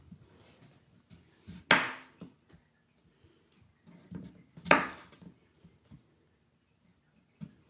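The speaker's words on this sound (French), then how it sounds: "on va couper en petits cubes nos patates" A knife cuts potatoes into small cubes on a board, with two sharp, loud chops and a few lighter taps spread across an otherwise quiet kitchen.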